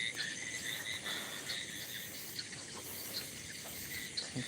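Crickets chirp in a dense, continuous outdoor chorus beside a field near water and a hostel, faint and steady with no voices.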